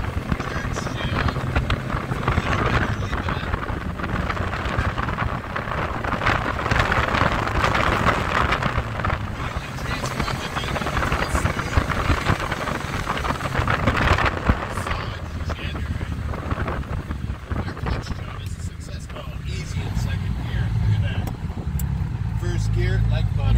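A Ferrari 246 Dino drives with its engine note rising and falling through an early shift into second gear, wrapped in heavy wind rush, with someone talking over it.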